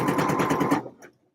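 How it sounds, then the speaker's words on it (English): A sewing machine runs steadily for under a second, stitching a line in a quick even mechanical rhythm, then stops abruptly and leaves near silence. "I'm on my 4th line of sewing as well"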